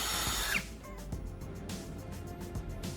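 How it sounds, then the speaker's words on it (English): Electric drill boring holes through a CD disc for a homemade TV antenna, a steady whining buzz that runs throughout, with a pitch sweep early on and brief fluctuations as the bit cuts. "Using a drill, I'm carefully making holes at the marked points on the CD."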